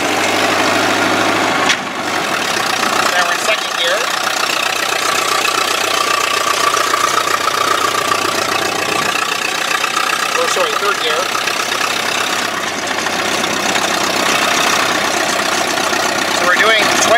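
A 1928 Chevrolet AB National's engine runs steadily while the car drives slowly down a narrow one-lane backcountry road, heard from inside the cabin as a continuous low rumble with road noise.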